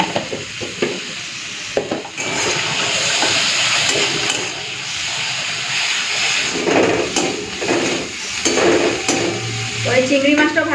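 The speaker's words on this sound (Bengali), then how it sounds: "এখন আগে চিংড়ি মাছটা ভেজে নিই, তারপরে তেল দেবো" Shrimp frying in a hot pan gives a loud, steady sizzle and hiss, broken by stirring scrapes and clatters of a utensil against the pan.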